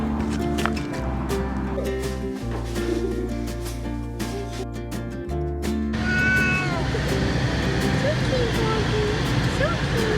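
Goldie, an old, affectionate adopted house cat, lets out several meows in the back half alongside bird-like chirps, with people talking quietly throughout.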